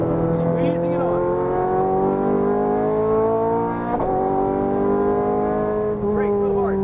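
Ferrari F430 Scuderia on a race track, its engine holding a high, rising tone as it accelerates steadily, with brief dips at shifts or lifts, while someone talks over it giving driving instructions.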